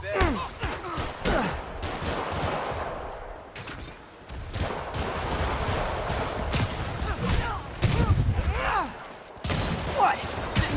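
Rockets and gunfire fill a Spider-Man PS4 boss fight: repeated loud blasts and rapid shot bursts overlap in dense volleys throughout, with a character's voice talking over the explosions.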